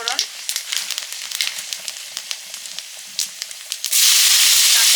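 Mustard-type spices and green chilli are tempered in hot oil for a tamarind dish. Quick close crackles and pops sound under a soft hiss, then a sudden loud, steady sizzle takes over.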